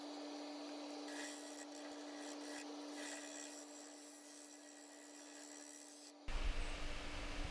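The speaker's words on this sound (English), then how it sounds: "This is the new to me Carter & Son 1-inch shear scraper, which I love." A 1-inch Carter & Son shear scraper cuts a punky cherry bowl spinning on a lathe, giving a steady, close scraping rasp over a constant motor hum, which cuts off near the end and leaves a brief louder knock and rustle.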